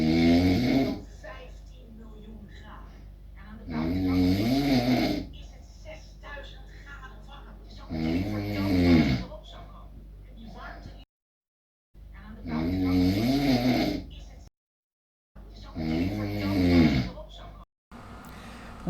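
A man snores loudly in long, rasping bursts roughly every four seconds, each deep rumbling inhale separated by brief quiet gaps, close and prominent throughout.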